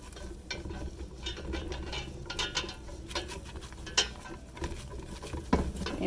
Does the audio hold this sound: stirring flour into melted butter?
yes